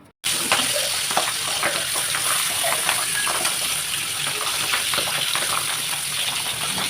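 Pabda fish coated in turmeric, chili powder and salt frying in hot oil in a wok, a loud, continuous sizzle with crackling spatters throughout.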